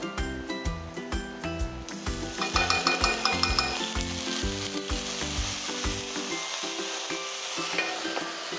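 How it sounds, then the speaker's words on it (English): Garlic sautéing in a pan as soy sauce goes in, with a bright, constant sizzle and frequent metallic taps and scrapes of a utensil against the pan, close up and continuous, the hiss easing a little toward the end. "And then we're gonna saute our garlic."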